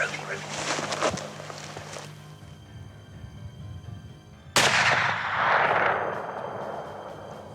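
A black powder muzzleloader rifle fires one loud, booming shot at an elk during a New Mexico hunt. A long rumbling echo rolls on after it, and quiet voices are heard before the shot.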